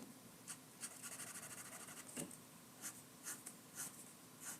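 A pencil scratches across paper while sketching a comic figure's hair, quick close strokes in short bursts and a longer run of rapid scribbling, faint and with no talking.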